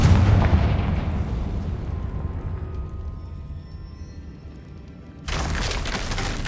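A Confringo explosion spell in Hogwarts Legacy booms loudly and rumbles away over several seconds, followed by a sudden burst of broadband noise near the end.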